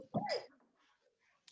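A single sharp sneeze bursts out close by, followed by a brief breathy trailing sound and quiet.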